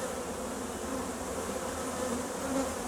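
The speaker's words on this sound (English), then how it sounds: "I'm gonna go and let these bees calm down, because they're kind of really grumpy at me." A dense swarm of agitated honeybees buzzes continuously and loudly close by, a steady droning hum with no pauses or voices.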